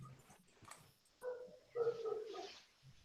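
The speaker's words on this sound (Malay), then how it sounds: "Sorry ya, ada bunyi anjing belakang." A dog whimpers and barks faintly in the background, short whiny calls rising after a second of quiet, distant and low in level.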